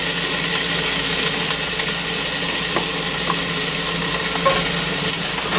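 Chopped onions, celery and carrots sizzle in a pan on high heat, a constant close crackle with faint stirring clicks and no voices.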